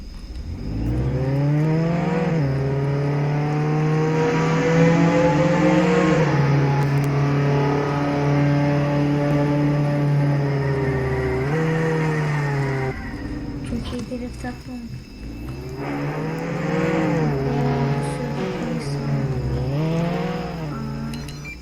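A car in Roblox Jailbreak drives with a loud, continuous engine drone that shifts pitch as it revs, briefly dropping away before accelerating again, with a person talking over it.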